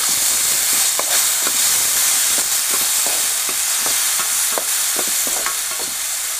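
Tomatoes fry in a pan with a steady, loud sizzle and hiss, while a spoon stirs them in short repeated scrapes and taps that recur about every half second.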